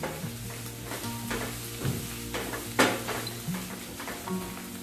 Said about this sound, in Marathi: आता मी यात जी आलं लसणाची पेस्ट घेतली होती ती ऍड करते. पेस्ट थोडीशी परतून घ्यायची.